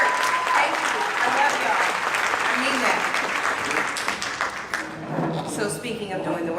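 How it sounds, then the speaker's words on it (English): Dense, sustained applause from a crowd at a live outdoor gathering marking the 100th anniversary of the Tulsa massacre, steady and loud throughout with voices mixed in. "Clap like you mean it."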